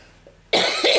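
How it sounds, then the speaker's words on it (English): A woman sitting in her lounge room coughs twice, loud and close, after a brief quiet moment. "I'm sorry about the coughing."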